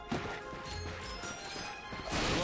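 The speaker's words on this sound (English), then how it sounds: "Look at him smashing crates." Wooden crates are smashed in Ratchet & Clank, one sharp crash up front and then a jumble of splintering hits and debris. A second loud crash closes the run.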